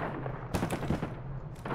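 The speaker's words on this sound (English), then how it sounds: "there's gunshots getting close to us now" Bursts of gunfire in the video game Arena Breakout crack out in two short volleys, fairly close, over a steady low background rumble.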